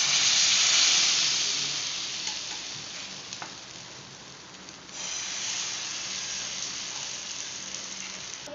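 Rava dosa batter sizzling and frying on a hot tawa, a steady close hiss that is loudest at the start, eases off midway, then swells again with faint crackles; no talking.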